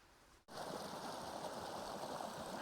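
Steady broadband rush of water flowing beside a small unnamed mountain pond near patchy snow on Joe Mills Mountain in Rocky Mountain National Park, starting abruptly after a brief quieter moment and continuing evenly and fairly close.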